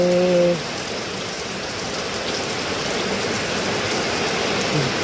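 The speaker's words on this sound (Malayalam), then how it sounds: "മഴ ശക്തിക്ക് പെയ്യുന്നു" Heavy rain pouring down in a loud, constant roar, after a short tonal sound at the very start.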